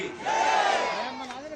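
A crowd at a JP Nadda political rally shouts a single loud, sustained collective cry of "Bharat Mata ki Jai," rising and fading over about a second.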